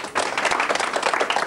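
Studio audience clapping on a radio talk show, a dense burst of applause from many hands, loud and close, filling the short moment without pause.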